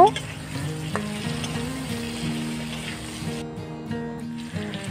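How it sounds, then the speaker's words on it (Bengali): Potatoes and snake gourd fry in hot oil with salt and turmeric, giving a steady close sizzle with occasional scraping and stirring clicks, no voices. "এরপর নেড়ে নিয়ে চিচিঙ্গা আলু লালচে করে ভেজে নেব।"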